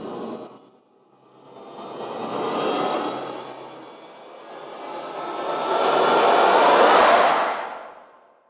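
A synthesized riser effect from the Native Instruments Rise and Hit library sweeps upward in two noisy whooshing swells, the second louder and brighter, then cuts off sharply, like a spaceship straining to take off.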